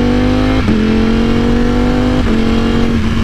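Ducati Streetfighter V4 motorcycle accelerating hard, its loud rising engine note dropping sharply at two quick quickshifter upshifts, close and continuous without talking.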